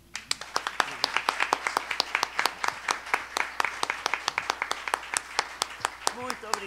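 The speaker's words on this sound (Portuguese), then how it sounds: "para quem eu já peço aplausos antecipados" A small audience claps for a speaker at an event on Ariano Suassuna's poetry: crisp, distinct claps at a quick, even pace throughout, with a voice faintly at the very end.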